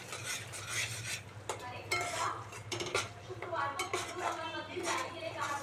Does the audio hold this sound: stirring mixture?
yes